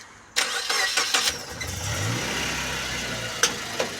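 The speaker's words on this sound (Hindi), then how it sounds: "और इंजन का मैं आपको थोड़ा सा आवाज़ सुना दूं।" A Suzuki Jimny's swapped-in M15 VVTi DOHC engine with auto choke cranks and starts with a few sharp bursts, then settles into a steady running idle, close by, with a couple of brief revs.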